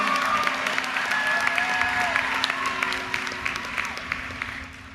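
A round of applause from a university commencement crowd, dense clapping that stays loud and slowly fades toward the end, with scattered voices and a few whoops mixed in.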